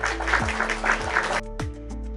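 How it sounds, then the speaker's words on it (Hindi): Short burst of audience applause greeting a contestant on a general-knowledge quiz show, lasting about a second and a half before fading under steady tones. "तो आप लोग छुटकी का स्वागत तालियों से करें"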